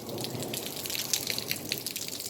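Heavy rain pours down outside a home, a steady dense hiss of water with scattered brighter splashes and drips, continuous and fairly close throughout, with no voices.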